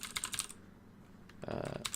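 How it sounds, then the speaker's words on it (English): A loud computer keyboard clacks in quick close bursts, with a brief quiet gap in the middle before rapid typing resumes. "apologies for my keyboard because it's pretty loud"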